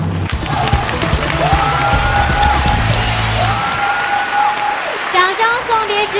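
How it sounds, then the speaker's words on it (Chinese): Studio audience at a Chinese dating show applauds to send off a contestant, continuous loud clapping and some cheering under music with a sustained tone, followed by a voice speaking. "掌声送别14号李彦辉"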